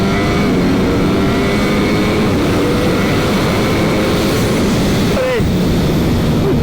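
A 2022 Ducati Panigale V4 S roars steadily under throttle on a track with slick tyres, loud and close, its engine note climbing briefly near the end, while a rider talks over it.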